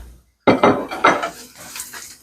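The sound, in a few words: stirring onion, mustard, fenugreek seeds and red chillies in karahi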